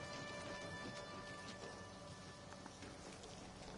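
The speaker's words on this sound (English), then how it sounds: "Storm clearing." A video-game storm of heavy, steady rain with scattered louder drops and a faint rumble of thunder, continuous and evenly loud, with no voices.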